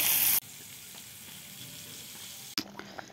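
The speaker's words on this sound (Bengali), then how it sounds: "এটা এখন ভাজবো, মাছ ভাজতেছে।" Fish frying in oil in a home kitchen, a steady broadband sizzle running under the whole stretch, with a loud burst at the start and a few sharper crackles and clatters near the end.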